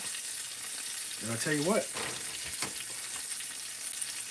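A burger bun toasts in coconut oil in a cast iron skillet, giving a soft continuous sizzle and hiss that runs steadily under a man's brief speech.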